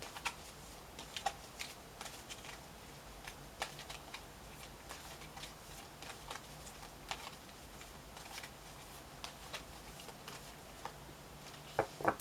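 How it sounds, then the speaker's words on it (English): Soft, irregular clicks and riffles as tarot cards are shuffled and drawn for a reading. The crisp taps are scattered and fairly close but quiet, with no talking. "So let's pull an energy card and see which one comes up for you here."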